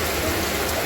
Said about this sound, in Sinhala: වැස්ස දුන්නා ආයේ පෙරහැර හේදිලා යන්නම.